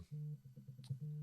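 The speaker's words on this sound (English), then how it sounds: "that's a phone going off" A telephone goes off faintly in the background as a podcast is being recorded, giving two low steady electronic tones separated by a short gap.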